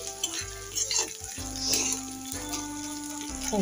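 Spices sizzle and fry in a little mustard oil in a pan as the pot is stirred, with a steady hiss, clinks of a utensil against metal and faint hum in the background.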